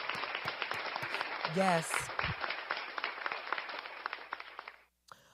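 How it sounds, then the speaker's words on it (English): Audience applause and clapping from a gathered crowd, a dense burst of claps that rises briefly and then fades out, with a voice heard over it. "I'm going to clap it up for you"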